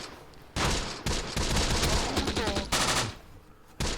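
Bursts of gunfire in the Close Combat wargame, set at an Italian desert stronghold, rattle out in several sharp volleys separated by brief pauses, loud and close, with no voices over them.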